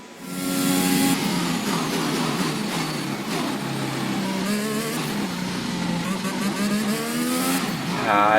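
Race car engine revving through gears in the F1 2021 video game during practice, a continuous loud whine with rising and falling pitch sweeps as the car accelerates and shifts.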